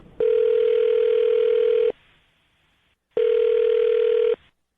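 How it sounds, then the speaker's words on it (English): A telephone dial tone heard at the start of placing a call, two loud steady tone bursts separated by a short silence, clear and alone. "I'm going to dial her phone number right now"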